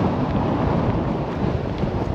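Strong storm wind buffets a tent in heavy rain, a loud, continuous roaring rush with gusty surges battering the fabric close to the microphone, no voices.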